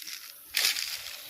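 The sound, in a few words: waterfall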